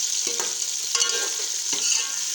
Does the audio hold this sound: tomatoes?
yes